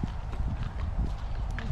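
A horse walking at a beach town setting, hooves clip-clopping in an uneven steady rhythm, fairly close, with faint murmuring voices in the background.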